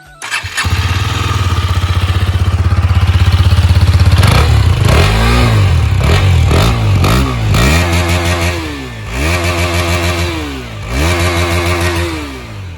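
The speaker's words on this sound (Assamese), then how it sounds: "মই প্ৰথমতে Duke 250ৰ এক্সজষ্ট চাউণ্ডটো শুনাইছোঁ আপোনালোকক।" A KTM Duke 250 motorcycle engine starts and idles loudly up close, then the exhaust is revved repeatedly in rising and falling bursts.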